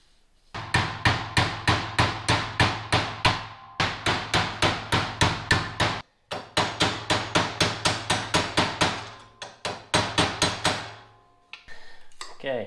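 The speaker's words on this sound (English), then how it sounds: "chuck it up in the vise and hammer it over" Hammer blows on a metal chassis piece from a Ford shoebox car clamped in a vise, loud ringing strikes in rapid steady runs of about a dozen, separated by brief pauses.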